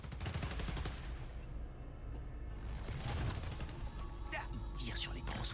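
Rapid bursts of gunfire crackle amid a noisy, busy background, with talking layered underneath, in the video game Spider-Man: Miles Morales.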